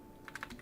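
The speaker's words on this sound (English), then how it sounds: "Let me stop typing." Brief burst of typing on a computer keyboard, a few quick clicking keystrokes close by and quiet, with no talking over them.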